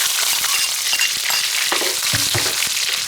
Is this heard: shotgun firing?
no